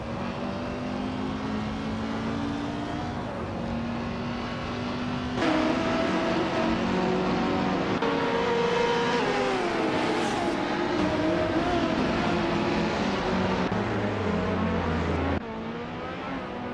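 Race cars scream around a track in a nonstop racing game, several engines rising and falling in pitch as they accelerate, shift and pass close by, loud and continuous throughout.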